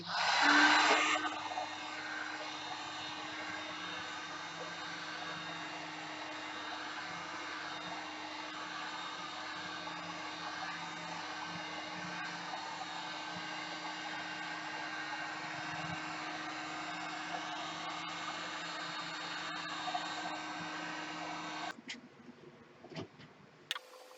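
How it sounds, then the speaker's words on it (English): A heat gun blows hot air over sublimation-printed Oracal 651 vinyl, a steady close whooshing hum lasting over twenty seconds before it is switched off and handling noises follow. "once you're done, you hit it again with the heat gun"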